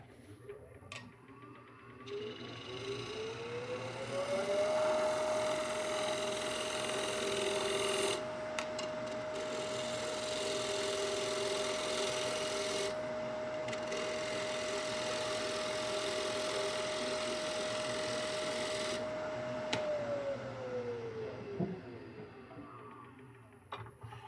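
A wood lathe spins up to a steady hum while turning a tenon on a live-edge walnut bowl blank, with scraping cutting noise over the drone, then winds down near the end.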